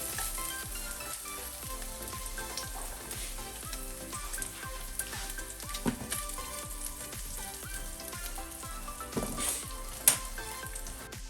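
Bacon and garlic fry in a saucepan with a steady, close crackling sizzle and dense spitting pops. A regular, faintly tapping pulse runs underneath, and no one speaks.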